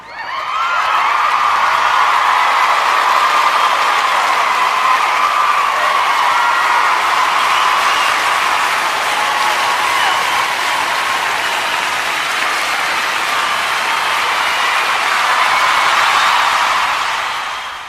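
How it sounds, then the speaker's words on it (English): Sustained audience applause with scattered cheers and whoops, loud and dense throughout, welcoming a speaker at an anniversary celebration event. "Thank you all for the applause, despite me being late to the occasion."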